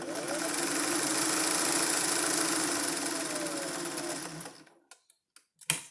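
A sewing machine stay-stitches a slippery, bias-cut vest lining around its curves, running steadily and close for about four seconds before stopping, followed by a few faint clicks.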